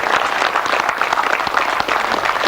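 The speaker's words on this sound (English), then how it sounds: "let's have a round of applause from Jim" An audience at a grasstrack motorcycle racing championship prize presentation claps in a loud, dense, unbroken round of applause close at hand, with a few individual claps standing out.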